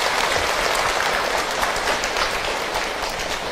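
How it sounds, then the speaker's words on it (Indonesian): Dense, steady applause from a seated audience at an Islamic religious talk, a continuous wash of many hands clapping at once, loud and close throughout with no voices over it. "Tepuk tangan buat Bunda semua yang hadir."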